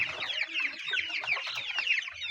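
A batch of broiler chicks peeps in a dense, continuous chorus of high, overlapping cheeps, close and lively, with soft low clucks underneath.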